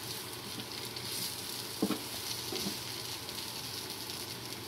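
Potato and green bean masala fry being stirred in a pan, a steady soft sizzle with a brief scrape of the spoon near the middle, no voices.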